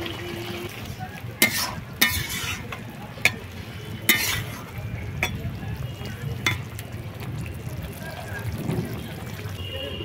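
Eggplant pieces fry with dried fish in a pan and are stirred. A steady low sizzle runs underneath several sharp scraping clatters from the utensil, and a voice speaks now and then.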